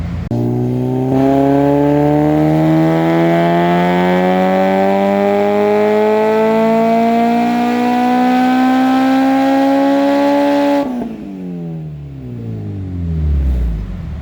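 An Acura RSX engine revs hard and climbs steadily in pitch as VTEC engages, a loud close roar that holds for about ten seconds before dropping off and swelling briefly again.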